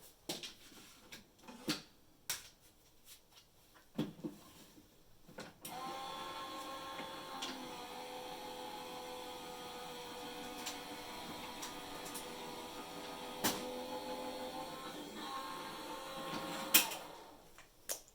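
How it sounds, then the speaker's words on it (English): A manual embossing machine cranks a folder through for about twelve seconds, giving a steady, moderately loud mechanical whirr and rumble after a few scattered clicks and handling knocks at the start, with a sharp click near the end; no one speaks. "I'll be 2 seconds while I run this through my embossing machine"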